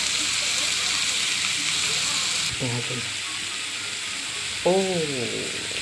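Ridge gourd sautéing with ground peanut powder in a pan gives a steady broadband sizzle throughout, while a voice talks briefly over it partway through.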